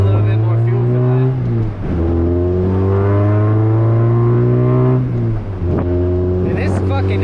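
A Honda CRX's naturally aspirated B17 engine revs hard while driving, its loud, steady harmonic drone climbing in pitch, dipping briefly twice at shifts, then rising again close up with no talk over it.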